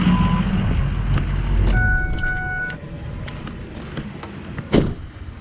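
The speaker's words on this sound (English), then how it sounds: "Let me turn this truck off." Ford F250 pickup truck being switched off, a low engine rumble that cuts out, with brief electronic chimes and beeps and a few clicks and knocks afterward.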